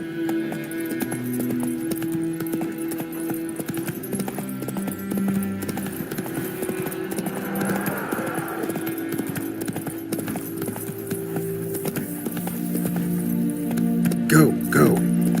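Rhythmic clip-clop hooves of a horse galloping in The Witcher 3 video game, steady and close throughout, with game music and a voice talking over it.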